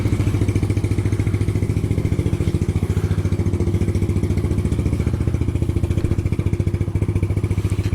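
A Honda Grom motorcycle with a new cam and high compression piston idles while warming up, a steady, close, loud, lumpy single-cylinder putter with rapid even pulses throughout.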